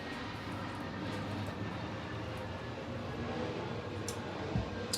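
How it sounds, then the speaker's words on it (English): Airplanes flying overhead outdoors make a broad steady roar of distant jet engines that fills the whole clip at moderate loudness, with faint hiss and a brief thump near the end. "A lot of planes today."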